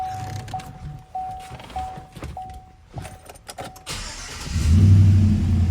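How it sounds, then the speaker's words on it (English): A 2018 Chevrolet Silverado 2500 pickup with a Flowmaster exhaust idles with a deep, throaty exhaust rumble, then swells louder near the end as it revs up close by. "Does have a Flowmaster exhaust, it sounds like."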